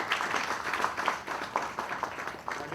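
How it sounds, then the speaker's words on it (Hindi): Audience applause after a Hindi theatre play, a steady, dense wash of many hands clapping that keeps up at an even level throughout with no voices. "आपकी तालियां बता रही है कि आपको नाटक बहुत पसंद आया होगा"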